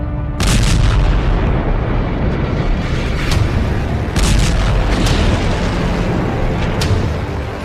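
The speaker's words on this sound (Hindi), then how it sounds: "एक के बाद एक धमाके हो रहे हैं" Repeated heavy booms from strikes in the Israel–Hezbollah conflict around Beirut, Lebanon, loud and rumbling, with several sharper blasts landing one after another over a sustained roar, no voices.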